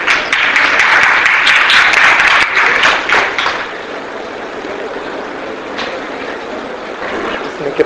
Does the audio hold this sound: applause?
yes